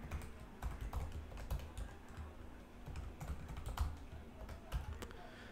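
Rapid clicking of keys on a computer keyboard as a new password is typed, irregular bursts of keystrokes close up and fairly quiet, with no talking.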